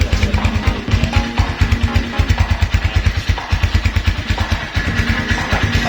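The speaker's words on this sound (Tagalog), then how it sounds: "that's the sound of a stock RUSI Classic 250 2020 model" A stock 2020 RUSI Classic 250 motorcycle engine idles close by at about 1000 RPM, putting out a loud, steady, rhythmic single-cylinder chug with clattery pulses and no talk.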